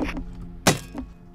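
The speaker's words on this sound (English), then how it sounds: "should we destroy that bed?" A bed is struck and smashed in the Rust survival video game, giving one sharp, loud impact in the middle of a short stretch of low game ambience, with a fainter knock just after it.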